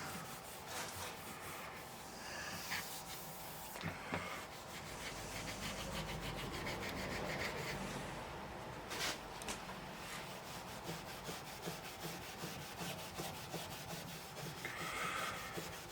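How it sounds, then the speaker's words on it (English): Fine 1500-grit sandpaper rubs steadily across the clear-coated playfield of a 1980 Williams Scorpion pinball machine, a continuous scratchy hiss with small shifts in stroke and no talking. "you can use like 1500 grit. You're still getting a lot of dust from sandpaper."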